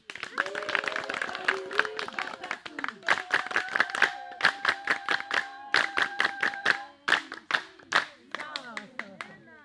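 A congregation claps in a church service, a steady run of rhythmic hand claps close by, with voices singing or calling over the top throughout.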